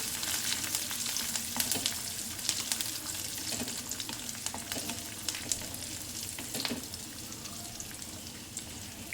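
Potato curry fries in oil as curry leaves and grapes are stirred in, with a continuous loud sizzle and crackle and scattered scraping stirs of a spoon against the pan.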